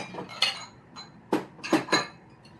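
Glass Pyrex dishes clink and knock together in a kitchen, several sharp, close taps and chinks spaced irregularly over a couple of seconds with quiet gaps between.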